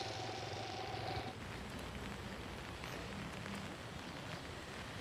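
Steady rain falls in a rural area, a dense, even hiss of drops on surfaces at constant moderate level, with a faint low hum fading out early.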